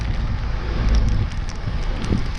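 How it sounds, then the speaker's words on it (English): Wind rushes loudly past the microphone with a low rumble, while a patter of rain adds a soft hiss outdoors during a hurricane. "Darn rain is coming in."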